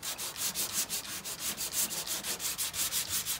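Hand sanding with 120-grit sandpaper on a Karmann Ghia body panel makes steady, rhythmic back-and-forth scratching strokes, about three per second, close and even, with no talk.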